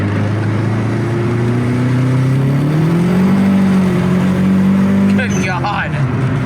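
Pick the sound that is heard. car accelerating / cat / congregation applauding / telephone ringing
car accelerating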